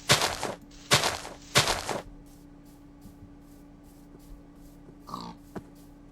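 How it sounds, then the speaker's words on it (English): Pigs in the Minecraft video game giving three short loud grunting oinks in quick succession, then a quieter stretch with faint game ambience and a softer grunt near the end. "See, there's some pigs."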